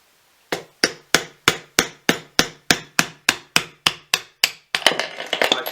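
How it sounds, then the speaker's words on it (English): A hammer gently taps a pin on a Skywatcher NEQ-6 telescope mount in a quick, evenly spaced series of about a dozen sharp close knocks, then a rattling flurry of quieter taps at the end. "you're going to hammer down onto the work like so, and you're just going to gently tap it"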